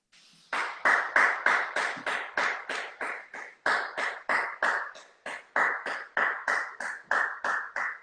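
Steady rhythmic hand clapping for the 8 pm applause during quarantine. The claps are close and loud, keeping an even beat with a short pause midway.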